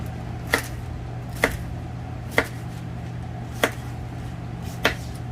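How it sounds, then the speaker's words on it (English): A kitchen knife dices onions on a cutting board for a home-cooked dish, with about half a dozen crisp, separate chops spaced roughly a second apart over a steady low background hum. "So we're just dicing the onions"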